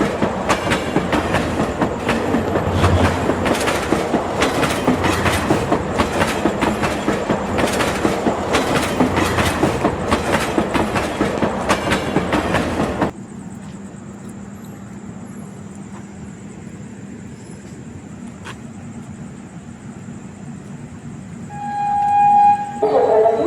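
The Konkan Kanya Express pulls into Khed railway station with a loud, steady rolling rumble and rhythmic wheel clatter for about thirteen seconds. It then drops abruptly to a low idling hum, with a brief rise near the end.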